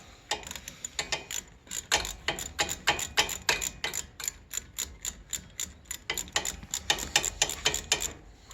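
Clicking ratchet-like turns while unscrewing a brake caliper guide pin on a 2011-2018 Volvo S60, a fast run of sharp close ticks in bursts with short pauses, alone with no talk.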